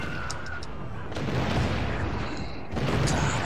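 Ship cannons firing during a naval battle in the video game Assassin's Creed IV Black Flag, heavy booming blasts rolling over one another in a dense, continuous barrage, with shouted voices faintly mixed in.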